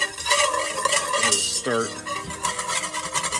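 Butter melting in a pan for a mac and cheese roux sizzles close up while a whisk clinks and scrapes against the metal, with a brief tonal clatter midway and no talk over it.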